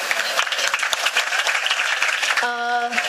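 Audience applause greets an actress making her Hindi film debut at an event, steady broadband clapping from a crowd throughout, ending with a brief held musical tone near the close.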